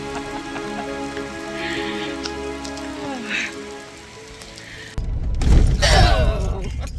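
Steady rain pattering on surfaces, turning into a louder, denser rush of heavy rain near the end, on a hike to Missouri's highest point.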